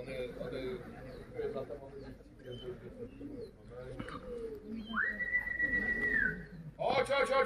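Racing pigeons that have just landed back at the loft after a championship race coo softly in the background while someone talks, with a brief whistle-like tone partway through.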